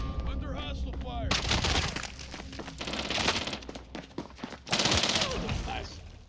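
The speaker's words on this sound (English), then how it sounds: "Under hostile fire." Gunfire in the Warzone video game: sustained bursts of automatic shots with sharp cracks and heavy booms, loud and close, interrupted by a brief lull, with a voice speaking over it.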